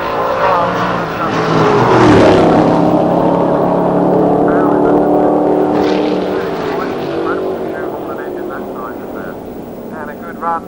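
Loud drag racing doorslammer cars roar and surge past at Santa Pod in 1990, rising then fading away, with an announcer talking over the noise.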